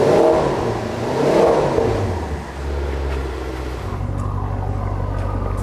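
Maserati Quattroporte GTS engine idling as it warms up, with a couple of swelling revs early on before it settles into a steady, close low drone.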